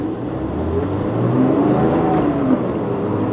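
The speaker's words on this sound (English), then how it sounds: "But listen to this thing." Porsche 911 GT3 flat-six revving loudly up close, a steady mid-range engine roar that rises and holds for a few seconds without talk.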